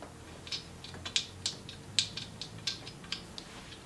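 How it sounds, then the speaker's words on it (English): Ratchet turning a 7/16 inch deep well socket to tighten valve cover bolts on a Jeep 4.0L engine, a quiet run of sharp clicks spaced unevenly, close and alone. "Tighten that to 77 inch-pounds. We're using a 7/16 inch deep well socket here."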